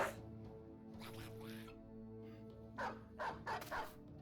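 Dog barking in the Battle Brothers video game, a few short barks arriving in bursts near the end over a steady game music bed.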